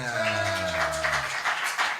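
Studio audience on an Italian talk show claps for a band, bright scattered claps over a fading sustained tone at the start.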